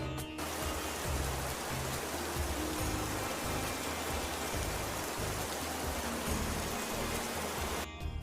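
Steady rain pours down during a wet-season trip to Tirumala, a dense, even hiss that fills the whole stretch at constant loudness, with no voices.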